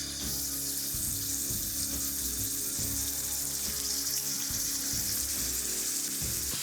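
Honey soy pork ribs fry in hot oil in a pan, producing a steady close sizzle and crackle with occasional low bumps from the pan, continuous and without talk.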